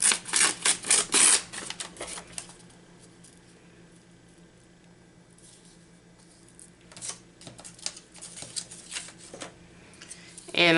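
Paper being torn by hand for a junk journal craft layout, a few quick crisp rips at the start and again later, separated by a quieter stretch with faint handling sounds.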